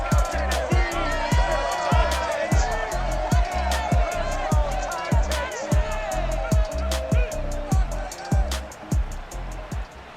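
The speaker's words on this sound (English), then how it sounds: "A great crowd on hand to battle the raindrops at Nissan Stadium in Nashville. This crowd here fired up for football" A large stadium crowd in Madden NFL 22 roars and cheers on a rainy day at Nissan Stadium in Nashville, a steady dense wash of noise with rhythmic claps and thumps.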